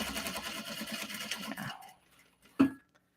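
A sewing machine stitches a Glenda clutch made from obi and kimono fabric, running in a steady, close, moderately loud burst for about a second and a half before stopping, followed by quiet and one short knock.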